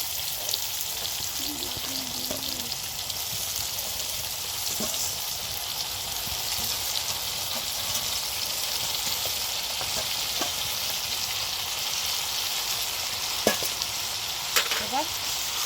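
Bhog rice fries with cashews, raisins and whole spices in a pan, giving a loud, even sizzle with occasional spoon scrapes and knocks and a brief faint voice early on.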